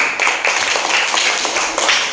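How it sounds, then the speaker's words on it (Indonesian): Classroom applause for a student named Safaras, a steady patter of clapping hands filling the room for about two seconds with no voices over it. "tepuk tangan untuk Safaras."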